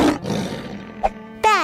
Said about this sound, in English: she'd already tamed a tiger